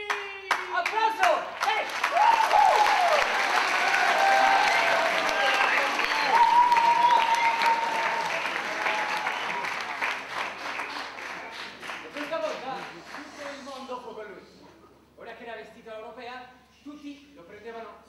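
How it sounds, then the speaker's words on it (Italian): An audience breaks into sustained applause and clapping, loud and dense for about ten seconds before thinning out and fading into scattered claps, with a voice heard alongside. "Applauso!"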